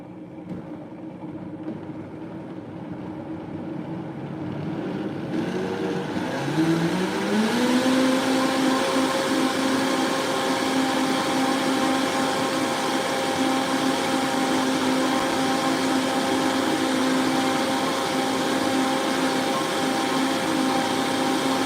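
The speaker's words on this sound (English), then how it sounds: "let's try blending this again" A blender blending sauce whirs steadily, its motor pitch rising and settling into a constant loud drone that runs on without pause.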